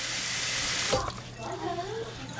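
Tap water runs steadily into a sink over dent corn kernels, a continuous close rush that cuts off partway through, leaving quieter splashing and dripping.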